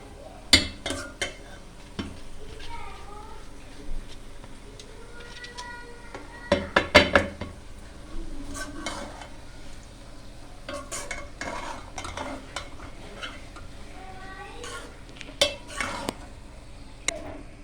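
A spoon scrapes and knocks against a cooking pot while rice and jaggery are mixed, intermittent clatters and stirring strokes over a quiet background.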